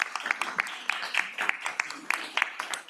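Scattered clapping from a small group at a county commission work session, moderately loud and irregular, with some voices murmuring underneath.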